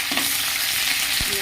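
Tempering for Telangana-style tomato chutney sizzles in hot oil with a pinch of asafoetida, a steady, close, loud frying hiss broken by a couple of soft pan knocks.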